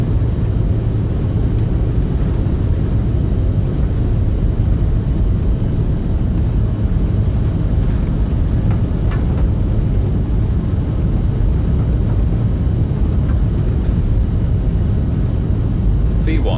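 Airliner jet engines at takeoff thrust in Microsoft Flight Simulator 2020 give a loud, continuous, low-heavy roar that stays steady and unbroken throughout.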